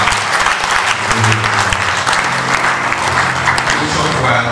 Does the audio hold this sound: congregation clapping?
yes